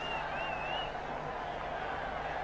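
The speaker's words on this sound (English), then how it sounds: "The crowd absolutely roared when Tendulkar got his first run." Cricket stadium crowd at the 2005 Videocon Cup match between India and Sri Lanka roaring as Tendulkar gets off the mark, a constant dense wash of cheering noise from a large crowd, with no talk.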